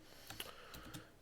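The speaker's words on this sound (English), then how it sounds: "I am going to start typing my text" A few quiet keystrokes clack on a computer keyboard in a short, irregular burst.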